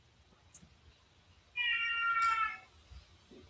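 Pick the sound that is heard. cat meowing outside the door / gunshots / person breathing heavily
cat meowing outside the door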